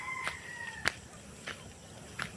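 Native roosters and chickens on a farm, with a drawn-out crow early on and then several short, sharp clucks and calls spaced about half a second apart, fairly close with a quiet background.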